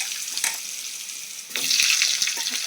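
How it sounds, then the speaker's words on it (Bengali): Potatoes frying in oil left over from frying fish, a moderate sizzle that jumps louder midway as more pieces hit the hot oil, with scattered utensil knocks and crackles. "ওই তেলের ভিতরে আলুটা দিয়ে দেবো আলুটা একটু লাল করে ভেজে নেবো"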